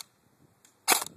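A single airsoft gun fitted with an M130 spring fires one shot, a short sharp snap heard alone after a faint click, close and fairly quiet.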